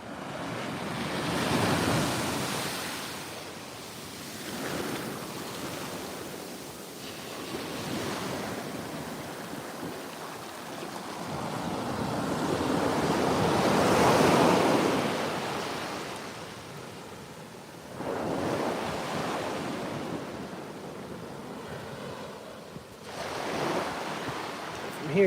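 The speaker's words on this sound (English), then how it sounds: "We got a good wave coming in here." Ocean waves break and wash onto the beach at Playa Conchal in repeated surging swells, loud and close, with wind buffeting the microphone.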